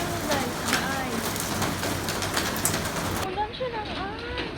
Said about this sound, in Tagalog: Ulan siya ng ice.